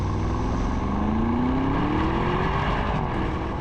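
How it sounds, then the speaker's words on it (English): The V8 engine of an Audi SQ7 climbs through the revs under hard acceleration, a loud, close, deep growl whose pitch rises steadily before briefly easing near the end, with no voices over it. "there's the sound of the V8, which is lovely"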